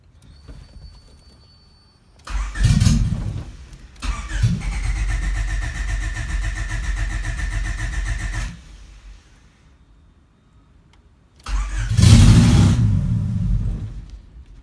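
A Y8 engine running on straight headers starts up loud, idles in a heavy, rough rumble for several seconds, drops away, then fires again in another loud burst near the end.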